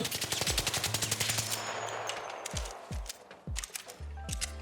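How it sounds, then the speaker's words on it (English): Stitcher gun in ARC Raiders firing several close, loud bursts of rapid shots, first a long run then shorter clipped volleys with sharp low thuds and brief pauses between them. "for the sake of it, we're gonna test the stitcher"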